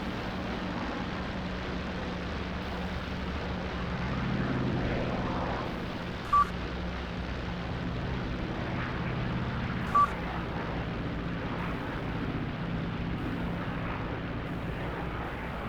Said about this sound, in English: I'm going to wait until the planes bugger off. That one has some serious engine trouble.